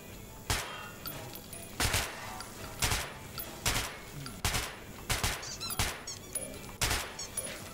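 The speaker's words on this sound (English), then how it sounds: "Feel free to try out your weapon on my firing range." Gunfire on a firing range in the video game Metro 2033, a series of separate sharp shots spaced roughly a second apart, some followed by metallic clinks, loud and close with no talking.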